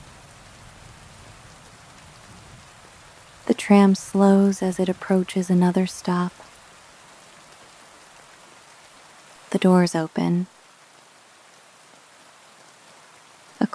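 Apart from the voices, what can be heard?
rain falling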